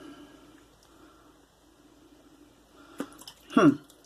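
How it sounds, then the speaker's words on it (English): A synthetic shaving brush dipped into water, a soft splash followed by a short, wet squishing slosh near the end, close and fairly quiet after near silence. "And let's dip this brush in the water."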